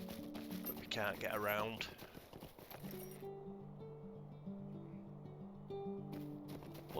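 Horse hooves clip-clopping in Lord of the Rings Online, an even, repeating trot of clops heard under someone talking at first, then carrying on alone at a steady pace.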